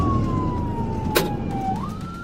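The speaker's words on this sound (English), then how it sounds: "Flashlights and sirens blared." A police car siren during a pursuit wails in a slowly falling tone then rises again, heard over steady road and engine rumble, moderately loud and fairly close.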